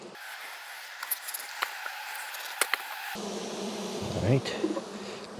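Honey bees buzz densely around an open beehive during a hive inspection, a close, continuous drone with sharper individual buzzes passing by, and someone briefly speaks over it.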